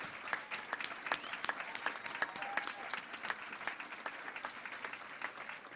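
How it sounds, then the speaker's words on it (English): Audience at the 2008 Manitoba Softball Hall of Fame induction ceremony claps steadily, a dense continuous round of applause with sharp individual hand claps standing out, sustained at even loudness throughout. "one more round of applause for our second group of inductees"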